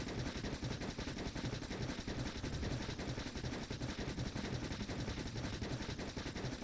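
Rapid automatic gunfire from a factory-building video game as enemies are shot down, a dense, continuous rattle of shots at steady loudness throughout, with no pauses.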